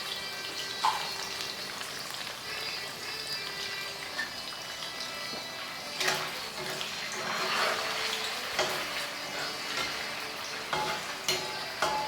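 Noodles briefly frying in a hot pan give off a steady, broad sizzle with scattered crackles and pops, with occasional stirring scrapes throughout.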